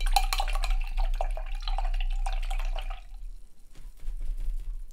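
An acrylic paintbrush swishes and taps in a container of rinse water, close-up dripping and clinking for about three seconds before a quieter, softer sloshing.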